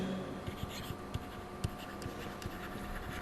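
Pen writing on paper during a pension finance lesson: soft scratching strokes with a few sharper taps, heard close over a steady background hiss, no talking.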